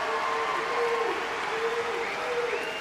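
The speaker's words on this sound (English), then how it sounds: "Round of applause again, folks." Audience at the Crufts dog show arena applauds, a sustained wash of clapping from a large crowd with faint whistles or tones running through it.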